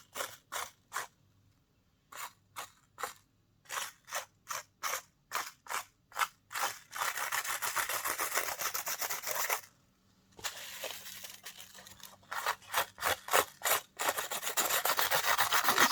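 Dried material being peeled off a watercolor painting, with a series of close, sharp crackling tears in quick rhythmic pulls, followed by longer continuous ripping stretches with short gaps.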